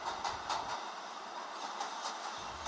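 A subway train car comes in with a steady, muffled rumble and faint rhythmic clacking of wheels on the rails.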